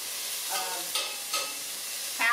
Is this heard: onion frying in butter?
yes